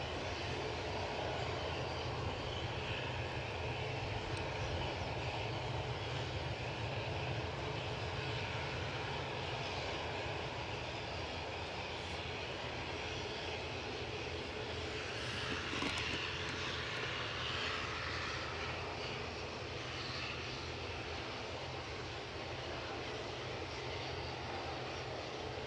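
A Ryanair airliner departing Edinburgh Airport for Dublin on a windy day, its engines a steady, broad roar held throughout at moderate distance, with wind noise mixed in.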